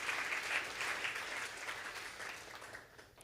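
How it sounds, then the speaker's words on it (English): Audience applause at a talk event, a dense round of clapping that is strongest at first and gradually tapers off, moderately quiet and without voices over it. "So a big round of applause to NEA Alaska."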